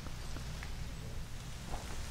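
Steady rain falls in the Legend of Zelda Twilight Princess HD game at Hyrule Castle, a continuous dense hiss of raindrops with no voices.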